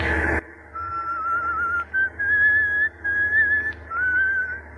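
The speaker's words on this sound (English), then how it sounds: "if you got a whistle, at least change that tune" A person whistles a wavering tune in a foggy outdoor setting, a sustained melodic line with short breaks between phrases, clear and close.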